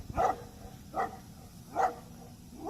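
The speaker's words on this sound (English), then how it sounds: "Just sitting here at a stop sign and letting his dog bark at me." A police K9 dog in a Punta Gorda, Florida patrol vehicle stopped at a stop sign, barking three separate times at a slow, even interval, moderately close and with no talk over it.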